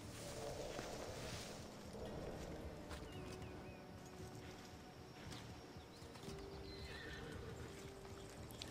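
A horse in the video game Assassin's Creed Odyssey clip-clops along steadily and gives a whinny, set against a faint, continuous ambient background.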